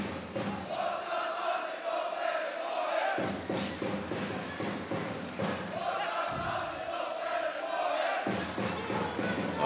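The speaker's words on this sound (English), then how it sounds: "The Ukrainians in the crowd are beating their drums and roaring" Ukrainian fans at a World Series of Boxing bout between Selby and Ilnytskyy roar steadily while drums thump in irregular beats, a loud arena din that swells and dips throughout.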